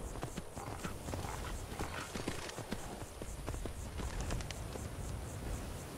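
Horse hooves in a video game clop steadily at a walking pace, a continuous rhythmic clip-clop over a soft background hiss, with no speech.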